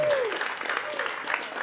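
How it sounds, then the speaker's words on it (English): Applause from a live audience at a talk-show style event, a round of clapping for a guest's grandmother, moderately loud and steady, with a voice speaking over it. "Y'all give her a round of applause"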